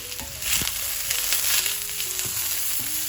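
Onions, chillies and spices fry and sizzle in a pan as they are stirred for Nepali flattened-rice pilau. A continuous hiss with occasional scraping knocks from the stirring, close and fairly loud.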